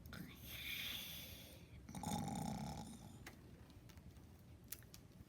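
A reader playfully imitates a bear snoring while reading a children's picture book aloud, giving a few soft, drawn-out breathy snores at low volume.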